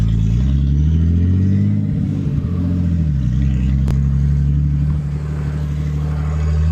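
A turbocharged BMW E36 car engine on the road while driving, a steady, close, loud low rumble that dips slightly in pitch midway and carries on without a break.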